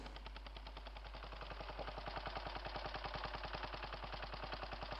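A walk-behind tractor engine labors steadily while plowing soil, its rapid, regular firing pulses running throughout and growing slightly louder and more pronounced midway, close and continuous with no talk.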